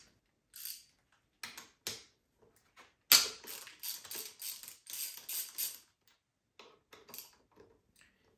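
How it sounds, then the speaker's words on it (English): Wrench clicks and ratchets in short bursts while a bolt above the triple clamp of an Aprilia Tuono V4 motorcycle is loosened, with a quick run of close, crisp metallic ticks in the middle and scattered taps around it. "Now we need to loose this bolt above the"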